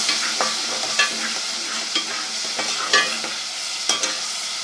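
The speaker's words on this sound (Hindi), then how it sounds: "अब हम इसमें अपने मसाला जार शामिल कर देते हैं और इसको फ्राई करते हैं।" Machine-minced keema fries with masala paste in a pan for karela keema, a steady close sizzle broken by regular scraping stirs of a spoon, without any voices.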